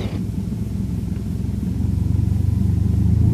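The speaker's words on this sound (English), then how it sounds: "reduce the power all the way to an idle setting to make sure the engine still runs at idle" A light airplane's piston engine idles during a pre-flight run-up, a steady low rumble with a pulsing throb that grows slightly louder and rougher toward the end.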